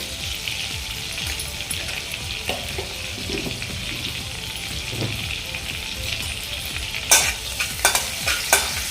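A spoonful of cumin seeds sizzling in hot oil in a pan over a medium flame, a steady close crackling hiss, with a few sharp stirring scrapes toward the end.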